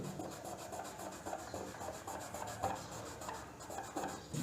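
A PVC reducer wrapped in cotton rubs a print off a T-shirt with quick, soft, rhythmic scrubbing strokes, faint and close.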